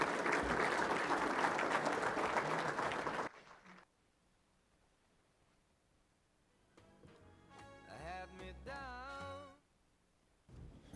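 Applause from a banquet audience for the football players, a loud, dense burst of clapping that cuts off after about three seconds; quieter room sound and a brief melodic electronic tone follow before the clapping returns at the end.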